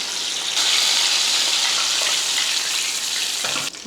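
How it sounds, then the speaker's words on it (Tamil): Steady, dense crackling hiss of oil bubbling around chicken deep frying, loud and continuous throughout, with a brief dip near the end. "இப்படி பொரியுது இது நல்லா பொரிஞ்சு அந்த எண்ணெயெல்லாம் நல்லா கொதிக்கிறது"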